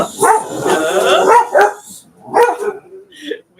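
Several dogs bark in short, loud bursts with yips mixed in, a dense cluster first and then scattered barks, with a faint yip near the end.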